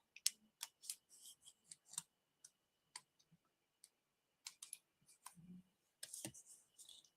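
Paper cut with scissors from corner to tip for a spring paper pumpkin craft, a quiet run of crisp irregular snips and clicks, some clustered and some spaced apart, heard close with no voices.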